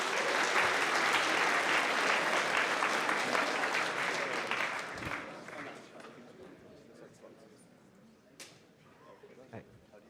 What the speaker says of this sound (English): please give them a round of applause and welcome them to the stage